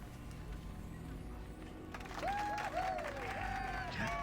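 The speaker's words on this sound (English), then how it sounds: "Thank you, thank you. The applause is appreciated." Steady crowd applause fills the whole stretch, with a bright synthetic melody and chimes rising over it partway through, in the game Star Wars: Knights of the Old Republic.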